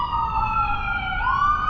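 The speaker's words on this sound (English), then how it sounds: "I can't get a clean damn take-in without some sort of ambulance or police siren" A wailing emergency siren, ambulance or police, sounds in a city street in Philadelphia, its steady tone sliding slowly down then rising again, loud and continuous with no talk over it.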